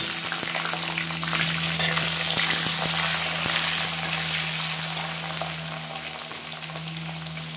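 Raw potato and green chilli frying in a pan for a curry: a close, steady sizzle with soft crackles and occasional stirring clicks, with no voices.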